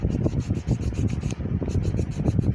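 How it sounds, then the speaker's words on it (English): Steady rapid rasping of a hand file scraping back and forth over acrylic nails, close and continuous with short rhythmic strokes. "go over the top of the nails like this with my file"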